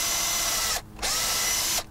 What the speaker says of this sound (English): I'm going to go ahead and pre-drill these with a little bit bigger hole.